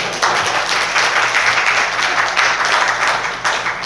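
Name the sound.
congregation applauding in church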